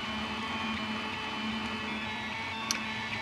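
A 3D printer with a pulse-width-modulated heated bed rated around 60 watts runs with a steady mechanical hum and whir, close and continuous, with one small sharp tick near the end.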